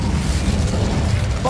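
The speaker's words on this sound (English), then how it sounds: "Incendio!" An Incendio fire spell cast in Hogwarts Legacy on PS5 gives a loud, continuous roaring whoosh of flame lasting the whole short moment, dense and close.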